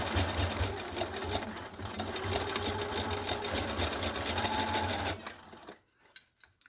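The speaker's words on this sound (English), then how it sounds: "I have my sewing machine set up with my bright orange thread" A sewing machine stitches orange thread in a rapid, steady mechanical chatter close by, sewing a dog hunting vest, running for several seconds before stopping.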